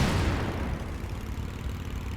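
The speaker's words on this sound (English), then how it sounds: "Even explosions don't do anything to me." An explosion in the video game Tomb Raider: Legend, a loud, continuous low rumbling blast that holds steady and fills the whole short stretch without any voice over it.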